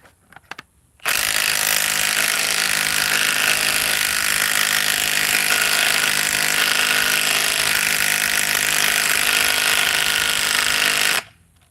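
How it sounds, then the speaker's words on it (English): A heavy impact wrench works on large semi truck lug nuts. It gives a loud, harsh, continuous hammering roar for about ten seconds, then cuts out abruptly into quiet. "This is some monster lug nuts you're pulling off a semi, and look at it, it's conking out."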